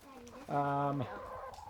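Hens in a homestead coop give a single drawn-out cluck or squawk lasting about half a second, fairly close and loud, with softer bird murmurs before and after.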